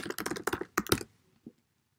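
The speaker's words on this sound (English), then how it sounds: "So you would type in this answer at the top." Quick bursts of typing on a computer keyboard, a cluster of rapid clicky keystrokes for about a second followed by a single lone tap, close and clear in an otherwise quiet room.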